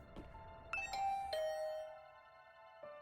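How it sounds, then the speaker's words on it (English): A video game doorbell plays a soft, quiet ding-dong of clear bell tones with a short chime pattern and a final tone near the end, alone with no speech. "I rang the doorbell and could hear the bell ring on the other side of the door."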